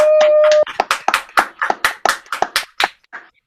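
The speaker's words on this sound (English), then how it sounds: "let's have a big round of applause for Dan Hall" Scattered claps ring out from a small livestream audience welcoming Dan Hall, about a dozen sharp, separate hand claps in a loose uneven rhythm, fairly close and clear, with no talking over them, fading out near the end.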